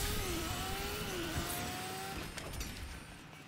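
Motorcycle engine in Fortnite roaring loudly and steadily with a rising, shifting whine, then easing off slightly toward the end, with no talk.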